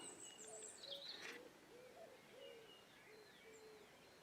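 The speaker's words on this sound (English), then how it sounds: "That was a cuckoo." Outdoor birdsong with a cuckoo's repeated soft, low hooting calls spaced through the clip, plus higher chirps from other birds in the background.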